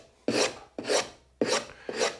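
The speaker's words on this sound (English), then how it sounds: "take a sanding block or a sponge or even just a piece of sandpaper and just break the edge" Sanding block rubbed along the top edge of a wooden door to break the edge: four quick, raspy strokes in a steady rhythm, close and clear with no talking.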